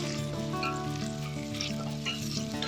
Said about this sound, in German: Ich lasse die Zwiebeln leicht karamellisieren